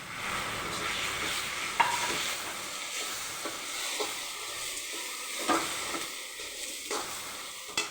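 Chopped tomato goes into a hot pan for a chana dal and coconut chutney, sizzling steadily up close while a spoon scrapes and stirs in scattered strokes.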